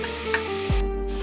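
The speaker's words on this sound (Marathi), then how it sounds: "छान परतून घेऊया मसाल्याला।" Ground masala paste fries and gets stirred in a pan, with a steady sizzle and a low scraping stir that swells partway through, no voices.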